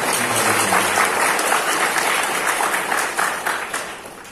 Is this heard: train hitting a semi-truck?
no